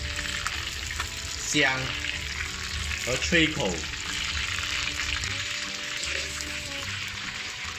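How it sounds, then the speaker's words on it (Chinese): Threadfin fish pan-frying slowly in oil, a steady close sizzle and crackle throughout, with a few brief louder spatters and a short spoken remark over it. "这样子慢火煎的鱼"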